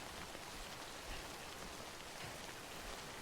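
Video game rain in Death Stranding, a faint, even hiss of rainfall pattering steadily on surfaces with no other sounds.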